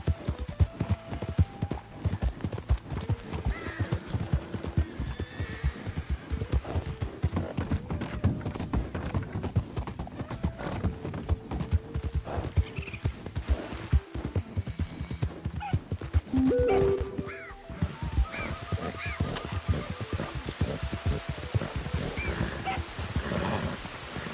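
Horse hooves clip-clopping in the western roleplay game GoldRush RP, a continuous rapid beat of hoofbeats close by, with a brief whinny-like sound partway through and no talking.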